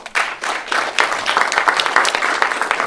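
Loud, dense applause from an audience, a steady wash of many hands clapping close by, with no voices standing out.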